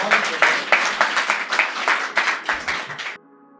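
An audience at a poetry performance claps to welcome the performers, a burst of lively applause with distinct individual claps that stops abruptly near the end.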